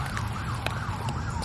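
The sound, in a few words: siren passing by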